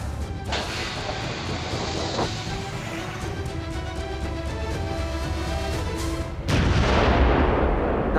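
A wartime U-boat torpedo launch and detonation on a direct hit against a ship, heard as a sustained rumbling roar with a sharp impact near the start and a louder, heavier blast surge near the end, with no voices.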